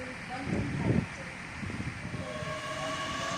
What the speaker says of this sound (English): Catching me at last minute is the 12:28 Great Western Railway service to London Paddington